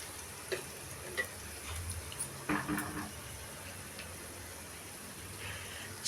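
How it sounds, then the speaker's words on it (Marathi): An onion fries in a clay pot over a charcoal stove, giving a quiet, steady sizzle with faint crackles and a few soft stirring knocks, and no voices. "छानपैकी आपला असा कांदा फ्राय होतोय, बघू शकता तुम्ही."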